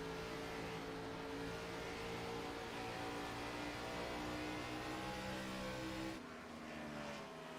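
A NASCAR-style Cup car in a racing video game at Darlington Raceway holds its engine on the rev limiter around 7,000 to 8,000 rpm, a constant buzzing, stuttering high-rev drone that stays near and loud, then dips briefly near the end.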